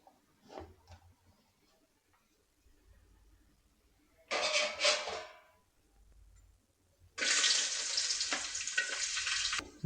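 Onions frying in a pan: short bursts of sizzling at first, then a loud, steady hiss as they hit the hot oil.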